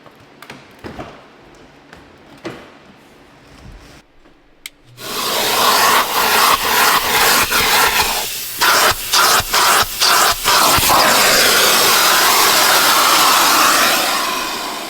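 A few scattered taps and rustles, then a loud central vacuum system roars on and runs steadily close by inside a car, its whooshing suction wavering as it moves over surfaces.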